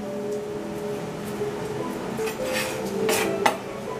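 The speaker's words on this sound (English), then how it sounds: "then I'm gonna put my carrots in there" Chopped carrots tumble into a bowl, making a soft, close clatter of pieces and a light clink of dishware over a steady background hum, rising briefly near the end.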